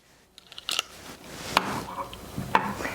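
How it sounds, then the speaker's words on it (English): Scissors snip sewing threads at a Janome MC8200 sewing and quilting machine, a few quiet, sharp metallic clicks spaced about a second apart against a soft room background. "Since we're just practicing, it's okay to just cut those threads"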